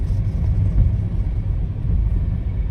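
A distant small engine rumbles steadily on a hot Arizona day, a continuous low drone holding without pauses.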